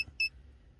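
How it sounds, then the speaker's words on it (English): A Foxwell NT301 OBD2 code reader, used to diagnose a check engine light, gives two short electronic beeps: one clipped at the very start and a clearer, slightly longer one just after, then quiet. "it keeps beeping, and I do want to turn off that beep"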